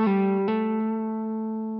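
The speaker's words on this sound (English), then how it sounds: "And then you can do this lick alternate picking," Electric guitar phrase of two quick plucked notes, one shifting smoothly into the next as in a hammer-on or pull-off, then a long steady sustain that slowly decays, no voice present.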